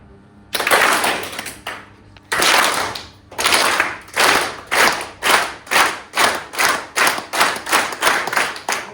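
A class of early child care educators claps in unison, each burst a sharp group clap, about fifteen in a row with short gaps that grow quicker and more regular toward the end.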